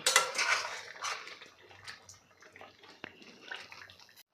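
Thick yogurt being stirred into chicken korma in a pot, with wet squelching scrapes and light clinks of the utensil against the metal, close and fairly soft, in irregular strokes.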